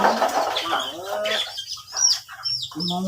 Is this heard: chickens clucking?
yes